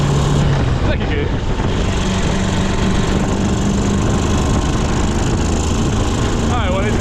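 Engine of a three-wheeled vehicle, loud and close, revving steadily with a shifting pitch as it downshifts, rough and buzzy like a small motor, with faint voices in the background.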